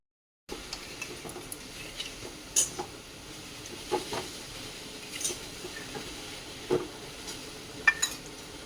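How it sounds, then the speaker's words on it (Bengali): A rattling kitchen chimney exhaust hood runs over a stove where a batter-based pitha is being made, producing a steady faint hiss and hum with intermittent light clattering knocks, heard alone without voices. "আজকে চিমনিটার আওয়াজ পাবে তোমরা কেন কি চিমনিটা বাড়ি রেখেছি এইটা কেন লড় লড় করছে"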